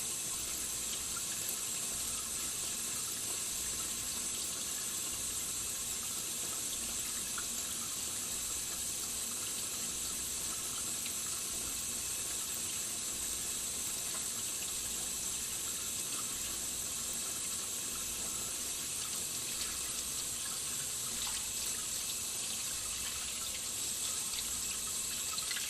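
Water runs steadily from a faucet into a sink during handwashing, a constant loud hiss and splash with no pauses.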